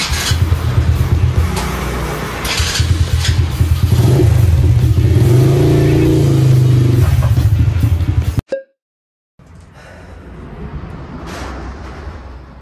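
A cheap auction-bought buggy, left out in the rain for ten years, drives off over rough ground. Its mid-pitched engine revs and drones loudly with rattling clatter for about eight seconds, then cuts abruptly before a fainter rumble returns.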